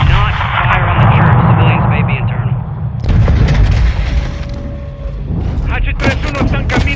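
Rocket explosions boom through a Call of Duty: Modern Warfare II battle, with a heavy rumbling blast, a second loud impact and sharp crackling debris, over continuous combat noise and radio chatter.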